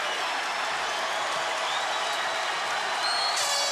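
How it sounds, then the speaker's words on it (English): Arena crowd at a UFC fight cheering and applauding loudly and continuously, a dense roar of claps and shouts with whistles rising near the end. "Stand and cheer, ladies and gentlemen."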